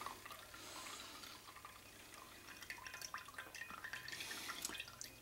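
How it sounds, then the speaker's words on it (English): Extra pickle juice poured into a container, a soft continuous splashing trickle with scattered drips, close and quiet, with no voices. "pour this extra juice in here"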